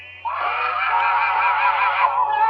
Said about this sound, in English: Listen to that scream.